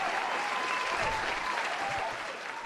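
Soft, continuous applause at low level, a dense even patter of clapping that eases slightly toward the end, played during a live futures trading stream.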